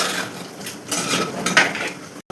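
Chicken liver masala is stirred in a pan with a spoon, giving a steady close scraping and clinking of utensil on metal, with a short drop to silence near the end.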